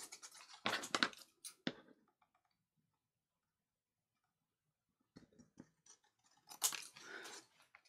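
Scissors snip the corners off a paper tag for an altered file folder craft, giving a few crisp, close cutting clicks, then a long silent pause before another cluster of sharp snips and paper rustles.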